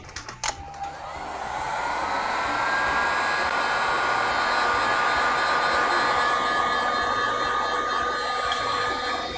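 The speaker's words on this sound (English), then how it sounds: "let's try to use a heat gun and see how it goes" A heat gun starts with a click and then blows with a steady, close-up whooshing roar, aimed at a 3D printed part made from Proto Pasta Matte Fiber HTPLA filament to clear stringing.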